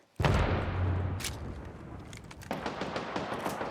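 Heavy gunfire in a shooter video game match: a loud sustained burst of shots up front, then a steady roar, then a fresh run of rapid, crackling close-range shots near the end.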